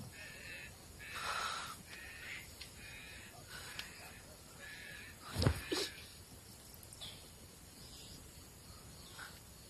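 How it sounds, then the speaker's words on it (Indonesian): A crow caws a few times at moderate distance inside a dim, quiet space in a Sumba horror setting, the calls spaced irregularly over a low steady hiss. "burung itu masih berkeliaran di dalam"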